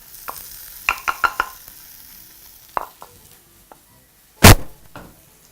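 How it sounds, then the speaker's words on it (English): A spoon scrapes the inside of a kitchen mortar clean, giving a cluster of quick dry scratches followed by a few sparse strokes and one louder, harsher scrape near the end. The sounds are close up with no talking. "Scrape off completely until your mortar is completely empty."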